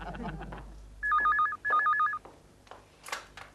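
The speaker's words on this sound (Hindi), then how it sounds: "चिंटू जरा फोन उठा, जाओ।" A landline telephone rings in a home, two clear electronic ring bursts in quick succession, loud and close, with household voices talking before and after.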